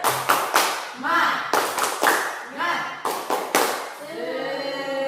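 A group of students in a school counseling session claps out the "tepuk semangat" rhythm in quick, patterned bursts. Their voices chant loudly in unison between and over the claps.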